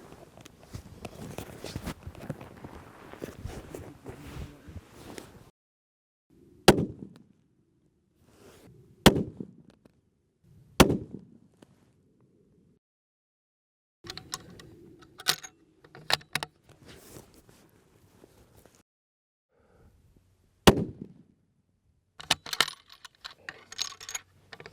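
Long-range hunting rifle shots fired through a clean bore, several sharp loud cracks spaced seconds apart outdoors, with quiet handling noises and faint wind between shots.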